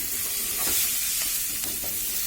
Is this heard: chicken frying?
yes